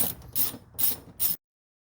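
T30 screws being backed out of a Saab door mirror mount, heard as three short close-up bursts of ratcheting clicks separated by brief pauses, then silence.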